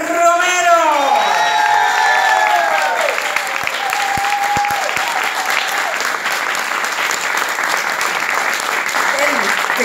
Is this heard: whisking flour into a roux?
no